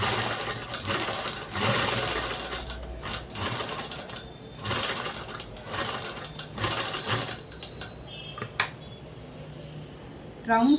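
Sewing machine stitching cloth for a boat neck long frock, running in steady whirring bursts with pauses for turning the fabric, plus small clicks and handling noises.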